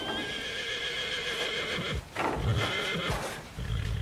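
A horse whinnies loudly with a long shrill neigh, followed by snorting and low rumbling breaths close by.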